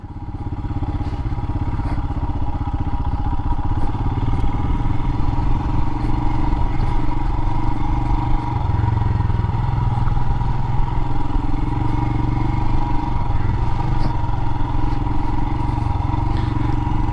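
A Royal Enfield Himalayan motorcycle rumbles steadily on a test ride through a parking lot, its single-cylinder engine droning loud and continuous with faint mechanical clatter and no talk.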